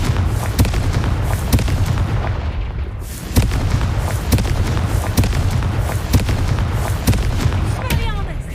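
Confringo explosive spells in the Hogwarts Legacy video game fire in quick succession, a dense run of loud booms and blasts over constant combat noise, with a voice calling out spell names.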